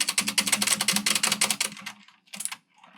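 Rapid typing on an AJazz AK50 budget mechanical keyboard with wobbly switches: a dense burst of close, clacky keystrokes, then a pause and a few shorter scattered bursts.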